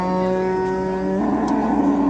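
A cow at the Shahrisabz Wednesday livestock bazaar lets out a single loud, drawn-out moo, close by, with a buzz of market noise behind it.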